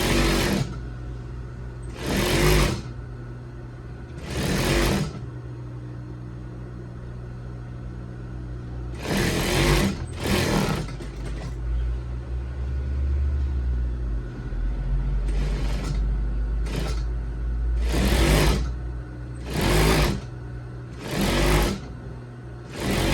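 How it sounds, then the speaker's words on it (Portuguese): A sewing machine runs a straight topstitch seam on the back panel of a zip-front lab coat, in a series of loud, steady bursts with short pauses between them, close by and with no talk. "Aqui eu vou dar uma costura reta com pesponto."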